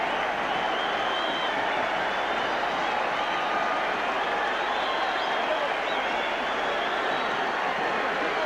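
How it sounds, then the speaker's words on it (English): A rugby league crowd at a New Zealand versus Great Britain test match roaring wildly after a try, a dense, steady wall of cheering and applause that holds loud and unbroken throughout. "The crowd has gone absolutely berserk."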